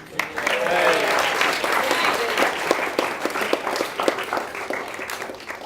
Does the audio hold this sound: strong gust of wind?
no